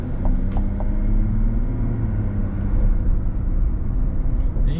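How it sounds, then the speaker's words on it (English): A diesel pickup truck engine runs with a steady deep rumble and low droning hum, close and continuous without voices. "Definitely hear that diesel up there."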